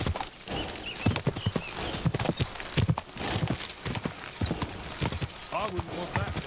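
Hooves clip-clop in a quick uneven rhythm, mixed with a horse's whinny and other game sounds from Kingdom Come: Deliverance 2, fairly loud and close.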